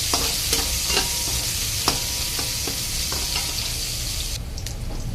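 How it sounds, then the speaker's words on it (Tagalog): Onion and garlic sizzle steadily in a hot pan while a utensil scrapes and stirs in scattered knocks, close and continuous with no talking. "At pagsabay na natin ng ating sibuyas saka bawang. Mekos-mekos na muna natin yan."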